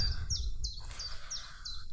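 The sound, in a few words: chiffchaff singing in a tree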